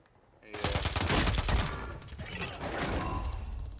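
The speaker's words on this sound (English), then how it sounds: "He didn't expect me to shoot him." Bursts of rapid gunfire from the video game Call of Duty, a loud volley of shots with mechanical clatter that continues less densely afterward.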